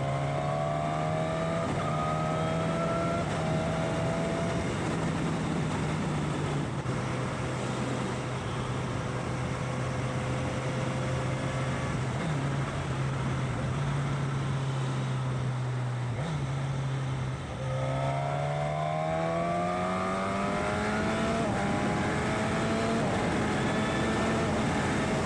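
Suzuki GSX-S1000 Katana motorcycle with a Healtech quickshifter accelerating, steady engine roar with rising pitch sweeps and brief breaks at the upshifts, heard from onboard under continuous wind rush, no talk.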